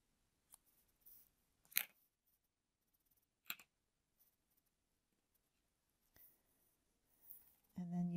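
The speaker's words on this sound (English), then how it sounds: "I'm going to cut my yarn" Scissors snip through crochet yarn at the end of a round: a few faint, quick cuts spaced apart in a quiet room, with soft handling noises and a voice starting at the very end.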